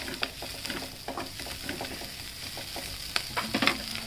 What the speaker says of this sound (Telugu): ఇంకా జీలకర్ర ధనియాలు వెల్లుల్లిపాయలు ఎండుమిరపకాయలు ఇవి వేపుకొని తీసుకోవాలి